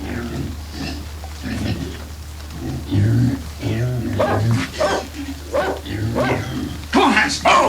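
A dog barks several times amid overlapping shouting voices in a tense indoor scene, the barks mixed with commotion and footsteps rather than standing alone.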